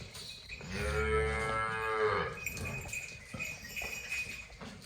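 Cattle at a Punjabi livestock sale give one long, loud, close moo lasting over a second, followed by quieter farmyard background noise.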